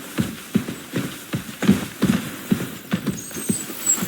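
A horse's hooves clip-clop at a steady walking pace in Kingdom Come: Deliverance II, close and clear, each footfall distinct and regularly spaced, with no talking over it.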